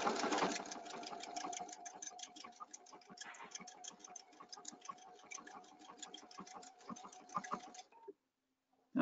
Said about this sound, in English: turn it counterclockwise, sew until it stops, turn it back, and sew until it stops